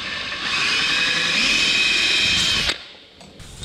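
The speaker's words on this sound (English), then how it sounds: "we'll just drill this top hole here, and then we'll contour from there" A power drill whines steadily for about two seconds while boring a hole in an exhaust trim ring, loud and close, then stops abruptly with a brief clatter afterward.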